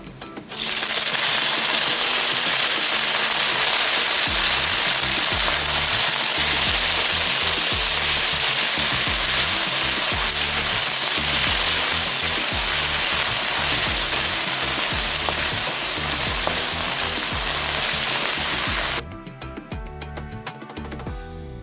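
Drumstick leaves tossed into a hot pan, giving a loud, dense, steady sizzle of frying that runs on and then drops off abruptly near the end.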